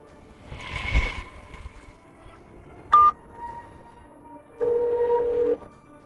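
A phone being dialed, with a few separate electronic keypad tones: a short beep near the middle and then a longer sustained tone, clear and close against a quiet indoor background.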